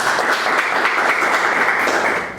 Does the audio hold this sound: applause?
yes